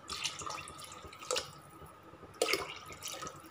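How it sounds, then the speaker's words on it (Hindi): Water being poured into a pot of rice in a home kitchen, trickling and splashing in a few uneven bursts, close by and fairly quiet. "मेरा चावलों में पानी डालने का अपना तरीका है।"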